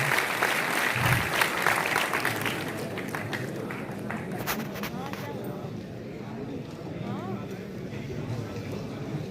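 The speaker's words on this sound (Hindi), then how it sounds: "एक बार जोरदार तालियां बजा दें पद्मश्री मैम मल्लिया अवस्थी जी के लिए" An audience at a village workshop event in Ayodhya applauds a Padma Shri honoree, a steady crowd clapping that is loud at first and then thins into a softer continuing patter.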